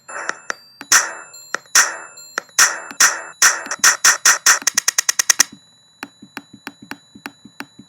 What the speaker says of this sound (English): the individual sine note, so that literally just sounds like a high-pitched bell